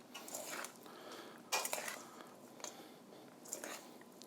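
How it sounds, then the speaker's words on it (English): Ingredients are folded into a mixture in a bowl, soft scraping and clinking of a utensil against the bowl in a few quiet, separate strokes, close by. "just going to fold this in to our mixture"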